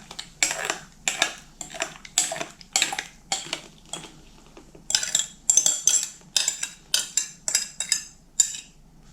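Flour, coffee, sugar and honey stirred together for a simple monastery coffee cake, heard as a steady run of sharp utensil clinks and scrapes against a bowl, close and fairly loud, in quick uneven bursts with brief pauses.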